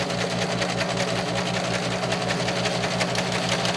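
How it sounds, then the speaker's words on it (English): A serger sewing machine stitches and trims fabric as it goes, running in a fast, even mechanical whir with a steady rapid pulse, close and loud throughout, with no talking. "This is a serger, so it cuts as it goes."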